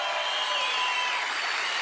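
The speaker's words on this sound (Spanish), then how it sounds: "Dense un aplauso ustedes mismos" A studio audience at a Sábados Felices comedy show claps in a dense, continuous burst of applause, steady and fairly loud throughout with no pauses.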